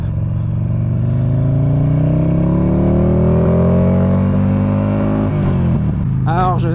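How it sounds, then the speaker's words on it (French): A Buell XB12S motorcycle engine revs up close and loud, a rising throaty drone climbing steadily for several seconds before dropping off as the next gear engages, with a brief voice breaking in at the end. "forcément le bruit du moteur est présent"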